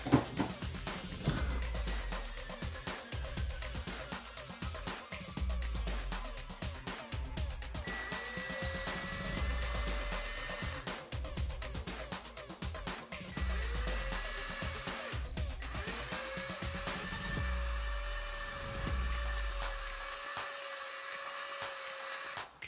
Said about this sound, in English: I'm going to pull out a drill and drill a hole inside